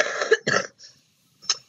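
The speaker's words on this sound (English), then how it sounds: "my cough is getting worse" Coughing from one person: two loud coughs close together, a softer trailing breath, then one more short cough after a pause, near and with no other sound.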